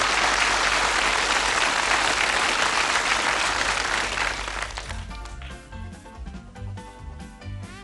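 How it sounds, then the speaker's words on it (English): A studio audience at the Bullseye darts game show gives Jocky Wilson a loud, dense round of applause that thins out after a few seconds as music and studio sounds take over. "a warm round of applause for Jockey Wilson and his trophy colour"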